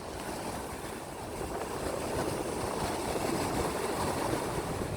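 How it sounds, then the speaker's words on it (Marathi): Sea waves at Harihareshwar beach wash in as a broad, steady rushing roar with some wind, heard from a short distance without any talk. "चला तर मग तुम्हाला मी समुद्र दाखवते"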